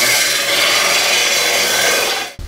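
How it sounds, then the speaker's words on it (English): A disc sander grinds wood countertop pieces in a loud, steady abrasive roar that holds for over two seconds, then cuts off sharply near the end. "Now I'm just gonna run everything through the disc sander to try and make the final product that much more perfect."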